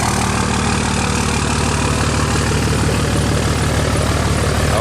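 A diesel truck engine idles steadily at close range, a loud, even low rumble with a rapid regular throb that holds without change.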